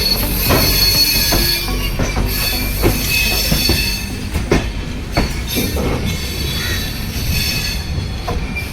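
Simhapuri SF Express pulling into platform 3 at Gudur station, a loud, steady rumble of rolling carriages with sharp wheel clanks and squeals close by, no talking.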